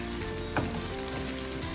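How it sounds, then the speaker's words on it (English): Sliced ginger frying in hot oil, a steady close sizzle with faint crackles and one brief stir, alone without talk. "You just basically just fry it for a bit."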